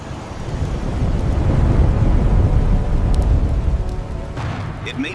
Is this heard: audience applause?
no